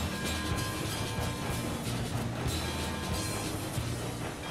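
Heavy ten-car freight train without a caboose rolling along in the video game Railroads Online, a steady dense rumble with faint rhythmic clatter and mechanical rattling, continuous and close, no voices.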